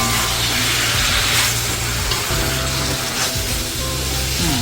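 Yakisoba noodles fry loudly in light oil in a pan, a dense, steady close-up sizzle with low clattering underneath that holds for the whole stretch without pause.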